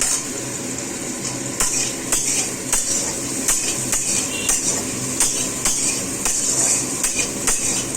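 Onions fry in a pan for a tadka (egg tadka) dinner, with steady soft sizzling under repeated sharp clinks and scrapes of a spatula stirring against the pan.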